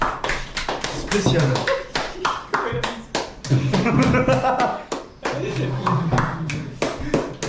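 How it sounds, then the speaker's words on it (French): Hands clap in a dense, steady burst of applause for a home cook's Portuguese-style dish with chorizo, under near, overlapping chatter and a little laughter from a small group. "on peut d'ores et déjà applaudir Joachim pour son travail"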